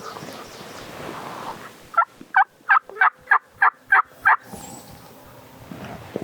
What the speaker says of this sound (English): Save some power until they gobble again.